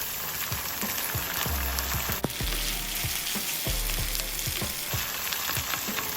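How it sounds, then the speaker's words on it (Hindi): Onion, ginger and garlic fry in hot oil, a steady loud sizzle running throughout with scattered pops and stirring scrapes, no voices. "एक चम्मच अदरक और 1 चम्मच लहसुन ताज़ा पिसा हुआ शामिल करके 2 मिनट तक भूनें।"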